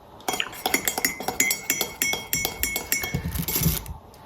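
Metal teaspoon clinking rapidly against a cup while honey is stirred into tea, a quick run of bright close-up taps that ends in a brief clatter.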